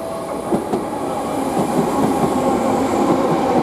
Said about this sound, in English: Customers on platform 8, please stand clear from the platform train.